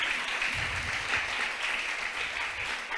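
A church congregation applauds in a continuous, dense wash of clapping from many people, steady and fairly loud across the whole stretch with no talk over it.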